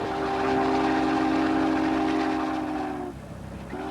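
Union Pacific 8444 and 3985 steam locomotives run as a doubleheader, a loud chorus of steam whistles sounding together over the rumble of the train before the whistles cut off and sound briefly again.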